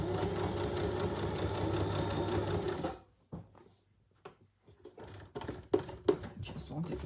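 A sewing machine runs steadily as it stitches through paper for a crafting project, then stops, followed by scattered clicks and handling noises.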